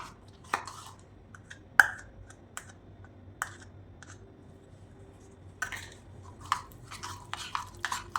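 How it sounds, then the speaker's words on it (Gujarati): A spoon whisks strained yogurt with saffron milk in a bowl for shrikhand, producing sparse clicks and taps on the bowl with quiet pauses, then quicker clustered knocks toward the end. "ચમચીની મદદથી સરસ ફેંટી લઈએ આને."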